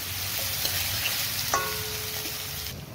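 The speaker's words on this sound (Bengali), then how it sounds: "এবার আমি এটাকে ভালো করে ভেজে নেব" Chopped onions and chillies fry in a pan, giving a steady close sizzle throughout, with a few light stirring knocks in the middle.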